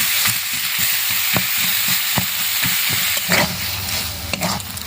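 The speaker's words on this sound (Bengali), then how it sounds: "খুব ভালো করে মশলার সঙ্গে মিশিয়ে এটাকে থেতো করে নেব।" A spatula mixes and mashes boiled flat beans and potatoes into sizzling spices, with repeated soft thumps and scrapes over a steady frying hiss.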